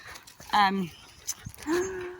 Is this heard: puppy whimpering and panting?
yes